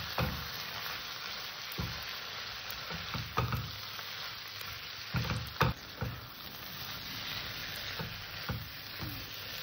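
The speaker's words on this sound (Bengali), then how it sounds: "এই রাজমাটাকে আমি সুন্দর করে একটু কষে নেব।" Boiled rajma beans are stir-fried in a pan with a soft steady sizzle and irregular thumps and scrapes of a spoon turning them, heard without any talk.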